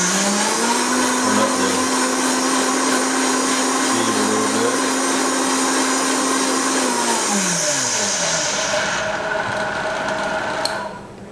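A Vitamix blender makes bulletproof coffee with a loud, steady motor whine that shifts pitch partway through, then winds down and stops near the end.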